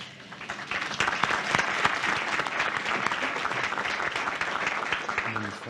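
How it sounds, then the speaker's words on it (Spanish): Sustained applause from a forum audience, steady and fairly loud throughout, with dense overlapping claps. "A todos ellos los recibimos con un cálido aplauso."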